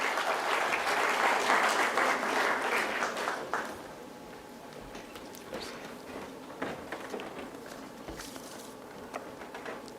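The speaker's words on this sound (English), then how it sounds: "can we have a big round of applause for Dr." A conference audience at a Bangalore business school gives loud, dense applause for a speaker. The clapping swells for about three and a half seconds, then drops to scattered faint claps and room noise.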